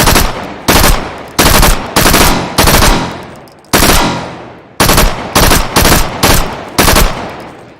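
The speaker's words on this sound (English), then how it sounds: "And then, of course, the Tommy gun, or Thompson, if you will." Thompson Tommy gun with an open bolt, firing in the video game H3VR; loud, close bursts of automatic fire in short groups with brief pauses between them, no talking.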